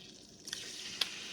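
Butter melting in a pan for rice crispy treats gives a faint, steady sizzle with two brief crackling pops, no voices.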